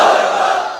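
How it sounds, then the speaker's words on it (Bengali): A large sermon audience shouts a takbir in unison, a loud, sustained crowd roar that fades out over less than a second. "সবাই মিলে তিনটা পড়েন লিল্লাহি তাকবীর"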